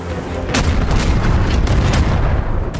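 Naval cannon fire from a warship built for a new kind of sea battle, sinking an enemy vessel from a distance; repeated heavy booms in close succession over a dense, continuous roar of battle.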